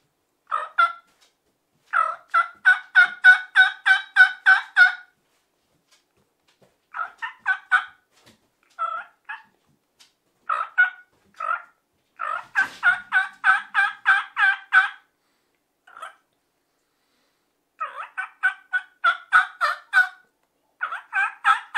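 A wild turkey gobble imitated on a hand-held turkey call comes in repeated bursts of rapid clucking notes separated by pauses, loud and close with no talking.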